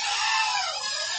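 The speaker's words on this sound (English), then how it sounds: "How did you like that scream?" A person screams while playing Hollow Knight, one short, shrill, strained cry held for about a second at moderate loudness.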